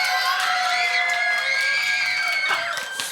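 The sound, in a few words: crowd cheering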